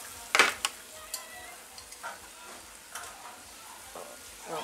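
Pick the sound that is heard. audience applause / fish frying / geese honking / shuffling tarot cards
fish frying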